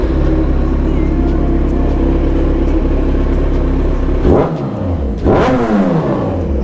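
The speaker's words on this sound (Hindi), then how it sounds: "एक बार रेफ करके दिखाते हैं बाइक को।" A Kawasaki Z1000 superbike idles loudly and steadily, then gets two sharp revs that climb and drop back, close to the listener.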